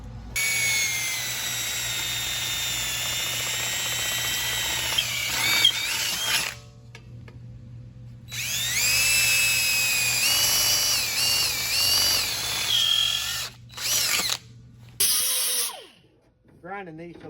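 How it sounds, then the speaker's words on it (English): An angle grinder flattening a welded metal patch panel on a rusty Squarebody C10 truck rocker panel: a loud, steady high whine in long runs that stop briefly, then shorter bursts near the end. "Grinding these so they'll lay flat"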